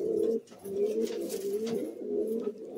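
Madrasi pigeons of an old bloodline coo steadily from close by, their low, rolling calls repeating in a continuous rhythm with a brief pause near the start.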